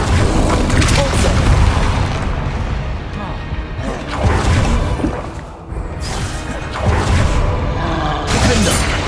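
Repulsor spell blasts in the Hogwarts Legacy video game: loud booming whooshes and shattering crashes recur in several bursts amid chaotic combat noise, with a brief lull midway.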